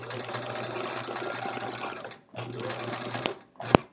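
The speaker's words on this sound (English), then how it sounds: "we're just going to start sewing" A domestic sewing machine stitches binding onto a hedgehog wall-hanging quilt, running steadily in a close, continuous whir for about two seconds, pausing briefly, then running again before a sharp click.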